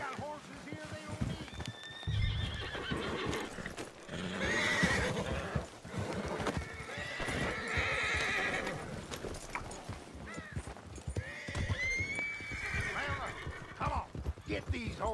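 In the western video game Red Dead Redemption 2, horses clip-clop and gallop close by, several neighs and whinnies cutting through as voices talk over the hoofbeats.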